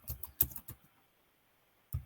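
Computer keyboard typing in a few quick bursts of keystrokes, then a pause and one more short burst; close, quiet and crisp, with no voices.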